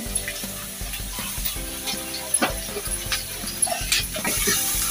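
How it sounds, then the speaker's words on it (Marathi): Chillies frying in hot oil over a low flame for Konkani-style sheglachi bhaji, a soft crackling sizzle with occasional stirring clicks and scrapes, fairly quiet and without voices. "मिरची तेलावरती टाकल्यानंतर ओढते"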